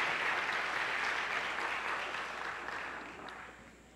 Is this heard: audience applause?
yes